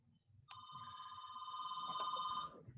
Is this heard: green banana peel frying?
no